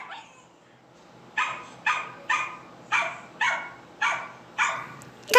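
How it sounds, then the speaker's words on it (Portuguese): A small dog barks seven times in a steady rhythm, each sharp yip close and clear against a quiet background, with no talking. "Cachorrinho!"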